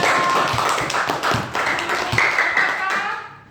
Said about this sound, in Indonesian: Tepuk tangan buat adik-adik semua